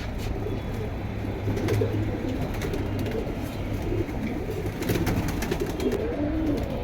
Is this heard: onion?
no